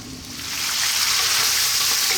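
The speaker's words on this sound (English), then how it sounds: "So we're going to fry this for about 6 minutes, giving it a stir every now and then" Lamb for siga tibs sizzles hard in a hot pan, a loud, close, continuous frying hiss that swells in the first half-second and then holds steady.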